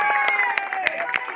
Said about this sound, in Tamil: என்கரேஜ் பண்ணுங்கப்பா, என்கரேஜ் பண்ணி கைதட்டு